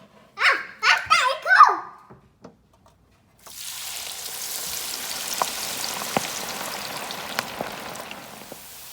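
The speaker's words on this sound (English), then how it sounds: "now we're gonna deep fry it" Honeycomb tripe deep frying in hot oil, a steady crackling hiss that starts midway and runs to the end, with sharper pops over it, after a few moments of talk at the start.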